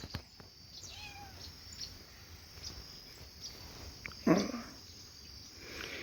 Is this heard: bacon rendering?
no